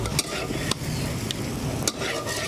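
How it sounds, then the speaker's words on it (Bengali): Jackfruit curry with onion, raw ginger and spices frying and being stirred in an open pan, a steady soft sizzle with a few sharp scrapes of the spoon against the pan. "অনেকক্ষণ অবধি এটাকে ভালোভাবে এভাবে নেড়ে ছেড়ে খোলা অবস্থায় রেখে কষিয়ে নেবেন"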